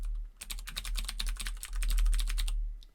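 Fast, steady typing on a Deck Hesium Pro mechanical keyboard with blue clicky switches gives a dense run of crisp, close key clacks lasting a couple of seconds, with no talking.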